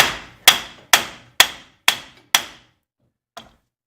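Six sharp metallic hammer blows strike a Ford F-250 universal joint at an even, quick rhythm, each ringing briefly, followed by a pause and one lighter tap.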